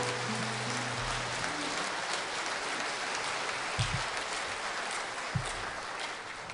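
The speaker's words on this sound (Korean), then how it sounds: "네, 다시 한번 힘찬 박수 부탁드리겠습니다." Assembled attendees at a monastic ordination vow ceremony give another round of applause, a steady, fairly soft wash of clapping heard alone, with a faint tonal sound fading out at the start.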